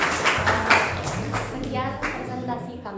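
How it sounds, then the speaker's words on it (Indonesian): A classroom group claps briefly for the third presentation group in a culinary class, a short burst of scattered hand claps mixed with students talking. "Kasih tepuk tangan untuk kelompok 3."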